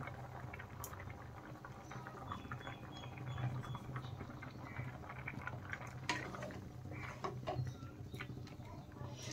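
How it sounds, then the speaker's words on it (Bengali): A pot of moong dal boils steadily, giving a soft continuous bubbling and light patter that stays faint and even throughout, with no voices. "ডাল দেখেন ফুটে গেছে, আমি উপর থেকে ডালের ফেনাটা ফেলে দিচ্ছি"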